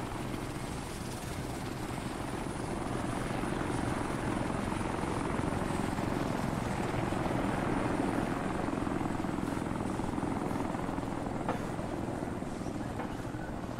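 A helicopter in the Insurgency video game flies off, its steady rotor and engine drone filling the whole stretch at a constant, fairly loud level with no talk over it.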